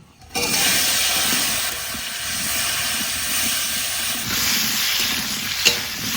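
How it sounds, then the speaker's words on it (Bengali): Potatoes frying in leftover fish-frying oil in a pan, stirred for a Bengali fish curry: a steady, loud broadband sizzle that holds throughout, with scraping stirs now and then. "প্রথমে মাছ ভাজার তেলে আলুগুলো ভেজে নেব।"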